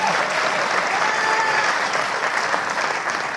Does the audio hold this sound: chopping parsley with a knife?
no